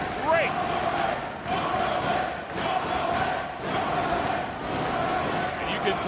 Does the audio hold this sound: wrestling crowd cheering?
yes